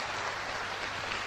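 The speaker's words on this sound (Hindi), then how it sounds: "और जोरदार तालियां होनी चाहिए ब्रिट वर्ल्ड वाइड के लिए" Applause from an audience at a business seminar, a steady wash of clapping hands that holds even and moderately loud throughout.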